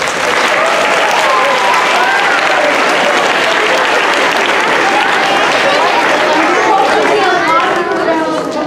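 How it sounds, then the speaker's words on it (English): Sustained applause from an audience at a whole-school meeting, with steady clapping for the full length and crowd chatter mixed in. "I think they deserve a round of applause"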